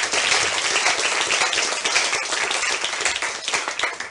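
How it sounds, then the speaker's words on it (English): Applause from a debate audience after a question-and-answer session, loud, close and continuous clapping with crisp individual claps standing out through the few seconds. "A round of applause for the question and answer."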